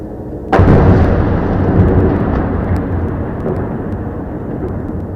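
A single sudden heavy boom from Israeli forces firing in Gaza, loud and close, followed by a long rumbling roll that fades slowly, with no talking.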